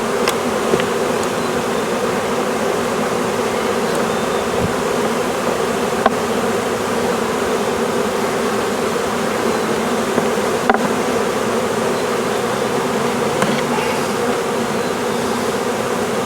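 Honey bees from a package swarm buzz steadily at a hive during installation, a dense continuous drone with occasional faint knocks of frames, close and loud throughout.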